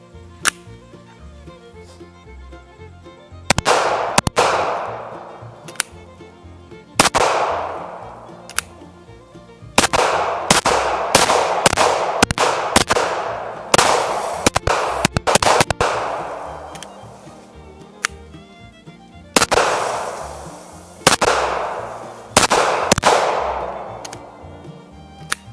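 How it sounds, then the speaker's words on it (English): Kel-Tec PMR30 pistol in .22 Magnum fired outdoors at targets, sharp loud cracks ringing out singly and in rapid strings with pauses between, each shot trailing off in a long echo and no one speaking. "It sounds like a big mean gun, but it's only a 22 Magnum"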